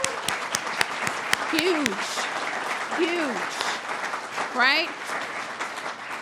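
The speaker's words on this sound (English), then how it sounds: "Can we just get a round of applause for that?" An audience at a public announcement event claps in a steady wash of applause, and a speaker's voice comes through over it with occasional cheers.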